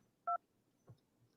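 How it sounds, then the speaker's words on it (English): A single short telephone dial tone beeps once while placing a call, followed by a faint click and quiet background. "We trying to call Tristan, but I don't have him in this phone here."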